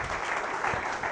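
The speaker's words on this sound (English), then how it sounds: "A round of applause for him, sir." A round of applause in a hall at a national day of tribute, a steady dense wash of many hands clapping, moderately loud throughout the short stretch with no distinct voices.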